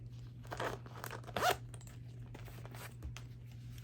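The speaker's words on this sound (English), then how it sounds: "And also a zipper on the back side here" A zipper on a Fossil Zippy leather wallet is pulled in a few short, scratchy runs, the loudest near the middle, close up over a steady low hum with no one talking.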